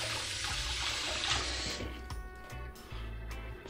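A blender jar is rinsed under a running kitchen tap, a steady rushing spray for nearly two seconds that then thins to a quieter trickle with low hum and clunks behind it.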